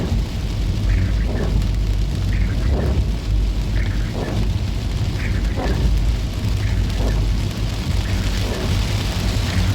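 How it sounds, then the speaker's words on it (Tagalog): Heavy rain pours down in a steady, loud, unbroken hiss that lasts throughout, with faint voices murmuring now and then beneath it. "Ang lakas ng ulan."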